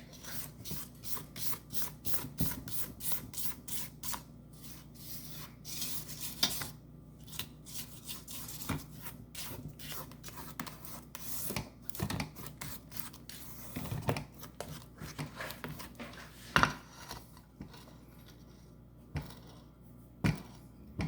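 Cake batter for a German chocolate cake being scraped down the sides of a mixing bowl, repeated soft rubbing and scraping strokes at close range, quiet and irregular, with a few sharper clicks.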